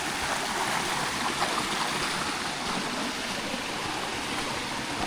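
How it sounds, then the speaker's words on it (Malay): A river stream rushes with a waterfall below it on a hill walk at Bukit Kiara, a steady, loud, broadband flow of water with no talk. "Hanya sungai je lah, waterfall kat bawah tu lah."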